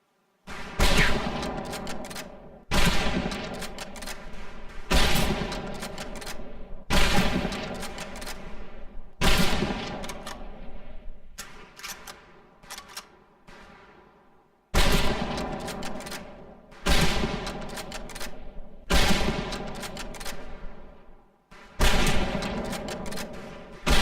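Rifle fire at a shooting range in the video game Medal of Honor: about ten sharp single shots spaced a couple of seconds apart, each followed by a long echoing decay.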